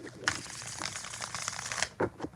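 Tarot cards are shuffled by hand in a short burst of riffling and soft slaps, close and moderately quiet, with a brief pause before a final flick.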